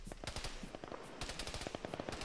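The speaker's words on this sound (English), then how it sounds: "Shooting right over our heads" Rapid machine gun fire in a military video game, with dense bursts of sharp close shots and overlapping distant gunfire crackling continuously over a couple of seconds.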